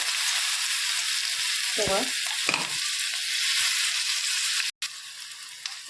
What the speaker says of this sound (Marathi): चांगलं असं मिक्स करून घ्यायचं आहे छान असं परतलं गेलेलं आहे